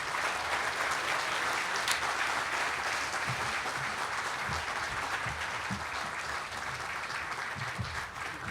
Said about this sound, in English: Let's please give another round of applause to Stephanie Hill.